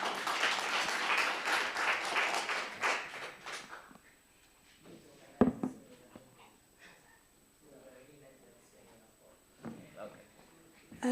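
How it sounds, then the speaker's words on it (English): Brief round of applause from a seminar audience welcoming a PhD presenter, dense clapping for about four seconds before it fades into quiet room sounds and a few small noises. "Maybe you can give a round of applause to Sia."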